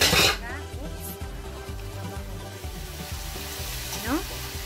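Vegetables with celery being stir-fried in a pan, a constant loud sizzle with scraping stirring strokes and a few utensil clinks close up.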